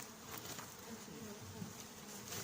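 Honey bees drone steadily during removal of a colony and its comb from a huge coral rock, a dense, continuous buzz with a few louder individual bees passing near, no voices.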